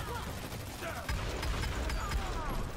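Video game gun gameplay with a Turtle Merc Obsidian loadout: rapid, repeated gunshots crackle in quick bursts, fairly faint, alongside a voice.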